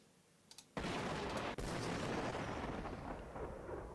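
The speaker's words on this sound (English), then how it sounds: "So fire explosion large, sure, and explosion sound." A large fire explosion sound effect from the Crayta game editor's sound library: a faint click, then a sudden loud boom at about 0.75 s and a second hit near 1.5 s, followed by a long, dense rumbling roar that fades slowly.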